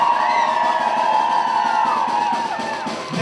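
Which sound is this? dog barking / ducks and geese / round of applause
round of applause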